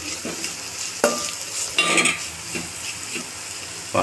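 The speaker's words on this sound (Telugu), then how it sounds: "ఈ పొడిని ఇప్పుడు ఇందులో వేసేద్దాం పచ్చివాసన పోయేంత వరకు కలుపుకోవాలి" Spoon stirring ground black pepper spice powder into tomato rasam in a pan, with scraping clinks against the metal and a light sizzle, a few distinct taps and a louder scrape near the middle, close and without talk.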